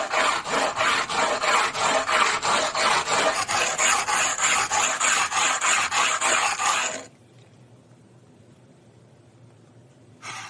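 Rhythmic back-and-forth rasping of a stone ring being sanded, close and steady abrasive strokes for about seven seconds, then quiet.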